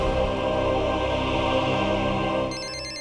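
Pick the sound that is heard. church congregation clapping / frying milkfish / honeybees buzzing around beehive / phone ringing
phone ringing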